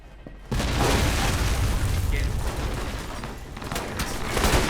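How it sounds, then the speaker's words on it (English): A C4 explosion in the video game Alpha Protocol, a sudden loud boom that breaks in after a brief quiet moment and rolls on as a sustained, rumbling blast with crackling debris for several seconds. "I'm reading a C4 explosion in your area."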